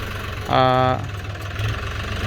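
New Holland TT3.50 three-cylinder farm tractor engine idling: a low, steady diesel rumble under a voice, which talks briefly over the running engine.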